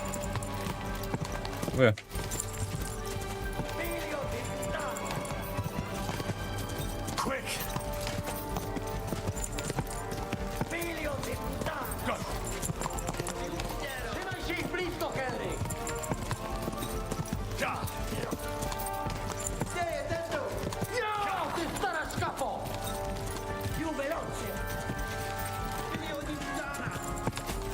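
Horse hooves galloping in the medieval game Kingdom Come: Deliverance II, a steady rhythmic clip-clop running throughout under continuous game music and someone talking over it.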